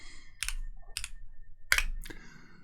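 A computer keyboard under Linux being typed on to enter a command, with four short bursts of key clicks spaced about half a second apart, close and fairly quiet with no talking.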